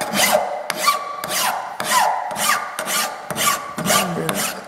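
A Swiss pattern file rasps across metal in eight or so slow, even strokes, each a loud, close scraping push followed by a short pause.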